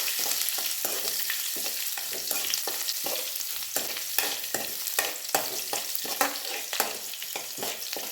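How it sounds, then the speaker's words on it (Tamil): Green chilli and ginger sautéing in a pan: a steady hiss of frying with frequent clinks and scrapes of a spoon stirring against the metal, all fairly close and without talk. "பச்சை மிளகாய், இஞ்சி, இதெல்லாம் ஒரு வதக்கு வதக்கணும்."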